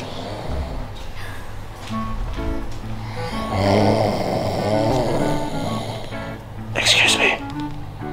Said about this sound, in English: They're snoring.